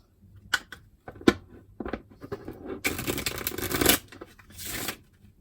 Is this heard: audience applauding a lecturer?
no